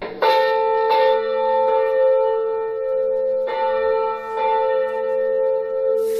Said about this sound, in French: le son de cloche d'une église catholique pour annoncer la messe matinale